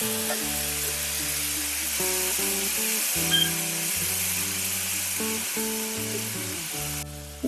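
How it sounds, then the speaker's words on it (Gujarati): Mustard seeds and cumin crackle and sizzle in hot oil as a tempering for a whole brinjal curry, a steady close hiss lasting throughout under background music. "રાઈ આપણી ફૂટી ગઈ છે તો હવે આપણે જીરું નાખશું"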